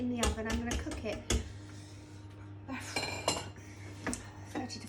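A cake tin holding a rum and raisin pineapple upside-down cake goes into the oven. Rapid metallic clatters and clinks of tin and oven rack sound close by, followed by a lighter knock and rattle, with faint kitchen hum underneath.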